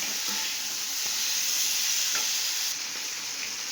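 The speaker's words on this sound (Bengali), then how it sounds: "দিয়ে দিলাম চিংড়ি মাছটা এবার বেশ খানিকক্ষণ কষাবো" Prawns stir-fried in a pan give off a steady, close sizzle with faint scraping stirs throughout.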